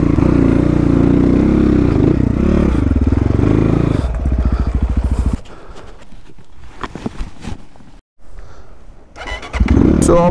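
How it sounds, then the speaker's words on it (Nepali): A motorcycle engine revs loudly and steadily while riding uphill on a mountain road returning from Manang, then drops to a lower idle with brief pauses and a final revving burst. "अब बाइकलाई यहाँ माथिको चल्छु म"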